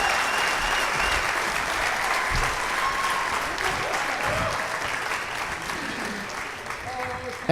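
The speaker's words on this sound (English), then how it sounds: "One more round of applause for all of my guests" A live comedy podcast audience applauds its guests with sustained, even clapping throughout, slowly easing off toward the end, with low voices murmuring beneath it.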